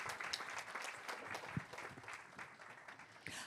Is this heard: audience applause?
yes